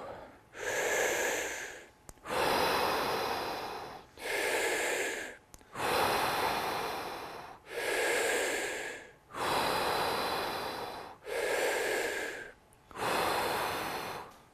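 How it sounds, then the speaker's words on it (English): Deep breathing in a Wim Hof Method session: seven long, forceful breaths follow one another in a steady rhythm, each a loud, close, rushing inhale-exhale separated by brief pauses. "Keep breathing. Deep breath in and let it go."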